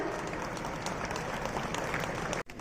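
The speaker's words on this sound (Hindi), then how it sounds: "तालियां।" Audience applause at a church jubilee ceremony welcoming guests, dense steady clapping at moderate volume that cuts off briefly near the end.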